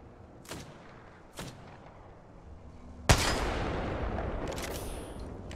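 Gunshots in the shooter game Apex Legends: two sharp isolated cracks a second apart, then a loud blast launching a sustained roar of rapid fire and rumbling echoes, close and dominant with no talk.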